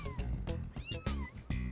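A litter of five tiny kittens mews in a string of thin, rising and falling cries, several short calls overlapping close to the microphone with low rumbling noise underneath.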